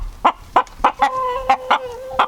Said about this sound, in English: So he's a Polish crested rooster.